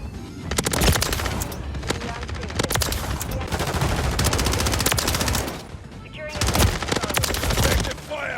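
An HRM-9 submachine gun firing in Modern Warfare 3, loud rapid automatic bursts close up, separated by short pauses and continuing through most of the stretch.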